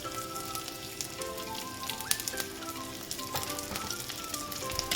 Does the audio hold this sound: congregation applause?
no